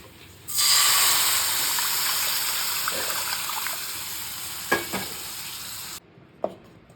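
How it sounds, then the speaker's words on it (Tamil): Tamarind and tomato water poured into a hot pan for kollu rasam, a sudden loud hiss and sizzle that holds steady for several seconds, with a couple of clinks before it cuts off. "நம்ம கரைச்சி வச்சிருக்கிற புளி தக்காளி தண்ணியை இதில் சேர்த்துடலாம்"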